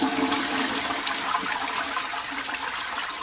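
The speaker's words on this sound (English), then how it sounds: "That's a toilet flush." A toilet flush rushes loudly and steadily for a few seconds, a close, full gush of water with no talk.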